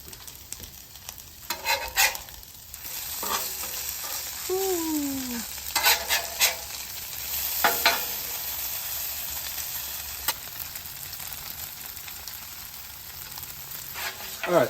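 A pat of butter sizzles on a hot Halo griddle, making a steady frying hiss with spatula scrapes and taps across it, and a few short squeaky scrapes in the middle.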